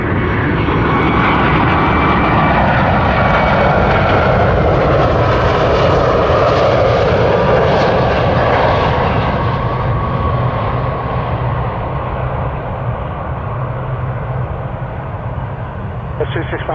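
A fixed-wing airliner's engines roar steadily and loudly as it lines up on runway 23 at Toronto Pearson airport, a sustained close jet drone slowly easing off, with talk running underneath.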